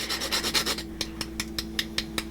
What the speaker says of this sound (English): And you're gonna give it a little grate of fresh nutmeg.